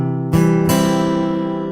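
Guitar strummed in a down, down, up pattern with the upstroke on only the bottom two strings, three quick strokes ringing out close and full, sustaining afterward with no talk.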